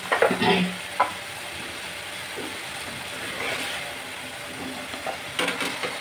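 Chicken cooking in oil and spice paste for chicken kosha, stirred with a few scraping strokes near the start and end over a steady low sizzle, close and moderately loud, with no talking.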